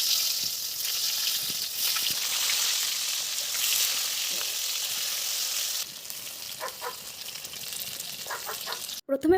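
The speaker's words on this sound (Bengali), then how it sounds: "প্রথমে পটলগুলোকে হালকা হালকা করে ভেজে নেবে।" Stuffed pointed gourds (potol) sizzle in hot oil in a wok, a steady bright frying hiss with occasional small pops and soft clinks, quieter and more spattery toward the end.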